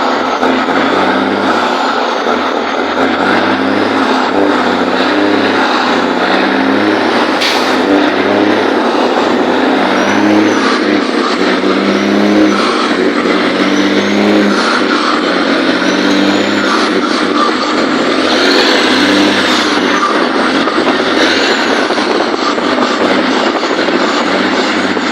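A Peterbilt 379 truck with a Cat engine working through an 18-speed gearbox, a loud continuous diesel roar whose pitch rises and falls as it shifts, close and steady throughout.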